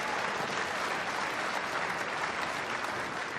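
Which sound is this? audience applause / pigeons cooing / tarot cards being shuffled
audience applause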